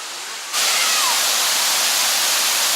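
Waterfall at Roberto Barrios roars as a loud, broad, steady rush of falling water, close and continuous after a sudden swell in the first half second.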